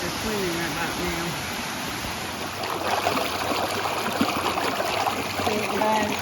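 A forest stream flows steadily in the wilderness as a soft, continuous rush of water. A voice talks faintly over it at times.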